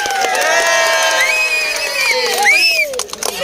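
A crowd at a jallikattu bull-taming event in Madurai claps, cheers and whoops for a winning tamer, loud and close, with shrill whistles and shouting voices layered over the applause.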